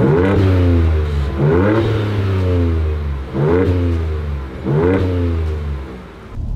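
A Ford Ranger Raptor engine revs to 3,500 rpm four times in a row, each blip climbing sharply in pitch then falling back to idle, loud and close with no talking.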